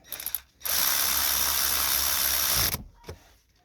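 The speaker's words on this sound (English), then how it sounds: "I'll actually use my handy cordless ratchet, which are very helpful in this situation." A cordless ratchet runs in one loud, steady burst of about two seconds, loosening bolts on the alternator of a VW van, with brief clicks before and after.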